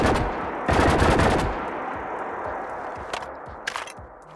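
Wattz laser rifle fired in the video game Fallout 4: a burst of rapid, loud energy-weapon shots, followed by a few sharper single zaps and quieter mechanical clicks as the weapon reloads.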